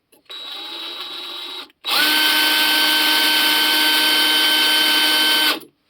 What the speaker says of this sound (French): je peux pas aller plus loin, donc j'en profite pour chanfreiner